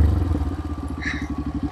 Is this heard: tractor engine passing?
yes